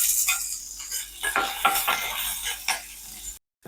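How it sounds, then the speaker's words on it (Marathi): Chopped garlic and green chili with cumin being stirred in hot oil in a pan, giving a close, continuous sizzle with spoon scrapes and clinks that ends in a short silence. "हलकासा असा मिरची लसूण हे परतून घेतला."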